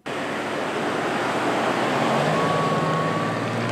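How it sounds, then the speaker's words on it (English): Heavy traffic roars as a continuous, loud wash of road noise, with a vehicle's rising engine tone passing near the end. "Heavy traffic"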